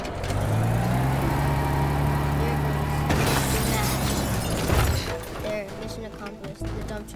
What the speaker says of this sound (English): I'm gonna be ramming a dump truck into the wall, into this building's wall